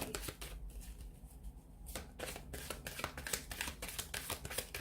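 A tarot deck is shuffled by hand in quick, crisp riffles and flutters, with short papery bursts close to the microphone and a brief pause partway through. No one speaks.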